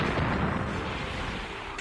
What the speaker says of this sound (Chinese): 敌人的炮弹密集地在他所在的6号哨位周围爆炸